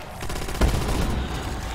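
Gunfire in Call of Duty World at War zombies co-op on the Aztec map, a quick burst of rapid shots with one heavier thump, loud and close amid steady game noise.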